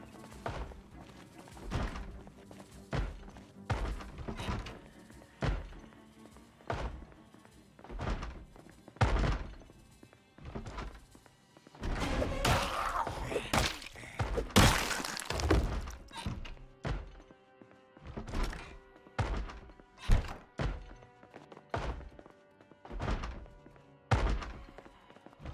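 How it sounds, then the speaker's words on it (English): A zombie in Project Zomboid bangs on a window in a nearby room, a long run of heavy, irregular thuds and thumps, some in quick clusters, loud and repeated with no talk over them. "Someone's in this room banging on that window there."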